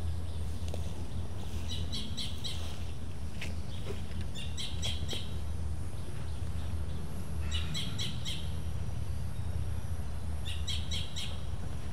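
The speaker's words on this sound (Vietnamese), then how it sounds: "Chim kêu quá trời." Several birds call repeatedly outdoors near a thatched hut among dipterocarp trees, their clustered chirps and squawks coming in bursts over a steady background of insect hum and ambient noise, with no voices.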